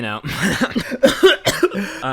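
A person coughs several times in quick, harsh bursts, close to the microphone, with brief throat-clearing between them.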